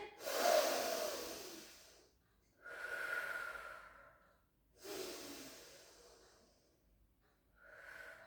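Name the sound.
breathing in during a pilates exercise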